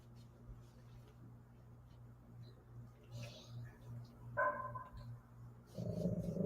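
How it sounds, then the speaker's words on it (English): A dog gives a short bark and a yip over a low steady hum, then a louder rustling noise follows near the end. "You don't need to bark every time there's noise."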